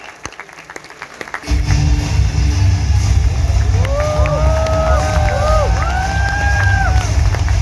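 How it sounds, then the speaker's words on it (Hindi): Loud crowd applause and cheering erupt after a quiet start, swelling into a heavy, sustained roar with high whoops and shouts rising over the clapping. "Everybody put your hands together."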